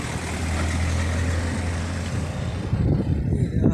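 Road traffic rolls past steadily outdoors among flowering trees, a continuous broad rumble with a low engine drone, growing slightly louder and busier toward the end.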